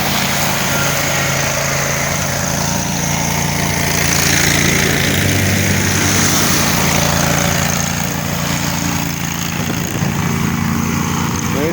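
A leaf grinder mulching fall leaves, a loud continuous engine drone with a steady whirring roar that holds at nearly constant level from start to finish, with no talking.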